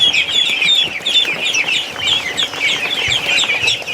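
Goslings and ducklings peep continuously in high, chirping calls, a busy overlapping chorus of young waterfowl close by with no talking.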